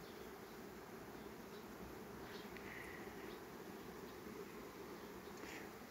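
Soft, continuous buzzing of honeybees at their hives hums steadily throughout, fairly quiet, with a few faint higher whines drifting past.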